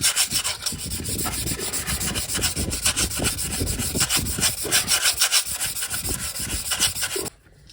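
Steady abrasive sanding on the brake disc of a Sunbeam Alpine's front brakes, scuffing the glazed shine off the metal surface: a continuous close, loud rasping rub with rhythmic back-and-forth strokes, no talking.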